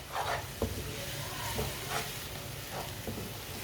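Three eggs with chillies cooked over raised heat in a pan, stirred with soft scraping strokes over a low, quiet sizzle, close by and without talk.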